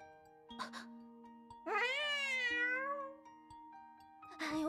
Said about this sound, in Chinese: 我就知道这只小猫多半是跑到锅里去